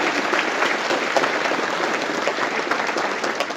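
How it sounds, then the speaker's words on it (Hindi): Sustained applause from a university convocation audience in Gangtok, Sikkim, a dense, steady clapping that fills the hall loudly and evenly throughout, with no voices rising above it. "ताली हो जाए।"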